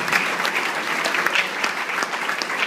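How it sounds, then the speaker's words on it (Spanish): Congregation in a Spanish-language Pentecostal church service clapping together, a dense, lively burst of applause with a few louder individual claps standing out. "Un aplauso fuerte para el Señor."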